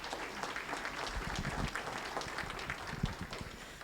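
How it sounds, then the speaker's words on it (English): Families in the audience at a school promise zone banquet clap together in a dense, even round of applause that holds at moderate loudness for nearly four seconds. "So give yourself a round of applause."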